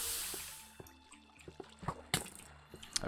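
Blocky water picked up with a bucket and placed again in Minecraft, with soft splashy liquid sounds and a few short drips and sloshes at close range, no talking.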